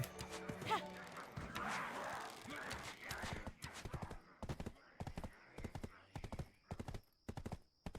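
Horse hooves clip-clop in the online role-playing game Black Desert Online, starting under a burst of noisy action and then settling into a crisp, steady gallop of sharp, evenly spaced hoofbeats.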